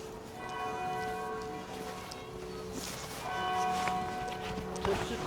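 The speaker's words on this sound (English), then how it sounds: "Hear the bells." Church bells in Nottingham ring out steadily with sustained, overlapping tones, some at a distance, over faint outdoor background noise.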